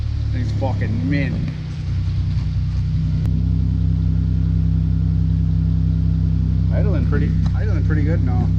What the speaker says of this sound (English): Idling pretty good now.